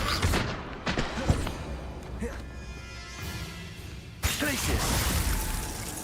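Confringo blasting spell going off in the Hogwarts Legacy video game, a sharp crackling burst followed by a ringing fizzle, then a second loud impact and crackle near the end, with game speech and sounds around it.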